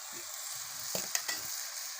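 Potatoes sizzle as they are stirred into spice-coated rice for a beef rice biryani, with a constant frying hiss and a few sharp scrapes of the spoon.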